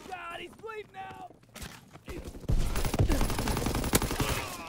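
Rapid gunfire and explosions from Call of Duty: WWII multiplayer crackle loudly in dense bursts during the second half, after a stretch of quieter game sounds and a person talking.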